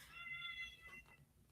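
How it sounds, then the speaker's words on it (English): A pet cat crying out in one drawn-out, wavering meow, close by and fairly soft, with a faint hum of the room underneath. "my cat's crying for no reason"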